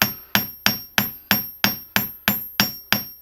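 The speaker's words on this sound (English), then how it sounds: "you use a hammer to adjust parts on guns" A hammer taps lightly on the loose arbor of a Pietta 1860 Army revolver, a reproduction Colt, sounding as a steady run of ten sharp, bright metallic strikes evenly spaced and close up, each fading quickly, with no voices.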